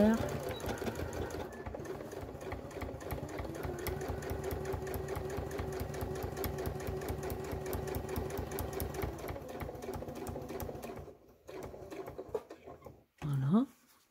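A domestic sewing machine stitches fabric in a steady buzzing run, then backstitches briefly before stopping; a few short bursts follow near the end, with some quiet talk.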